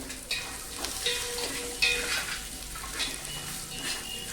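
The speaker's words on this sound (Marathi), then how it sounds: "अगदी थोड्या प्रमाणावरती हे ड्रायफ्रुट्स मी फ्राय करून घेतले बघा" Dry fruits for gum ladoo (dinkache ladoo) frying in a small amount of fat in a pan, a steady close sizzle broken by scraping stirs of a spoon, with no talking.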